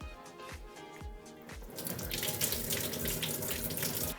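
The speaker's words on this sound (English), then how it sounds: "you want to keep rinsing and draining until the water runs clear" Running tap water pours steadily into a sink while rice grains are rinsed, a bright continuous splash that swells louder midway, with a few soft knocks near the start.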